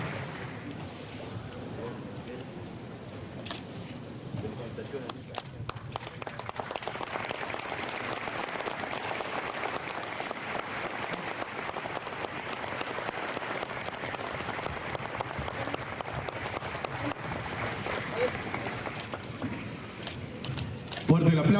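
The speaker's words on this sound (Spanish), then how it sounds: "Fuerte el aplauso." Applause from the crowd at a civic ceremony marking the 116th anniversary of Villa Angela, as flag bearers receive the flag, building after a spoken announcement into steady, sustained clapping that fills the hall for about fifteen seconds.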